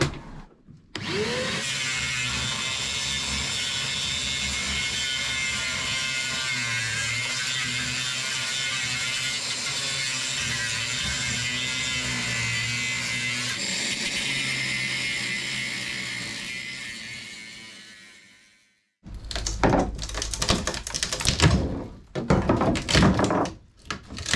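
A power tool cuts fiberglass inside an abandoned boat with a homemade dust collector nearby: a steady, loud whine runs for about eighteen seconds and winds down, followed by harsh clattering knocks.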